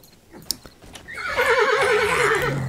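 A horse in the video game 7 Days to Die with a medieval mod gives a loud, wavering whinny after a few hoof clops and clicks, the neigh trailing off into a lower snort.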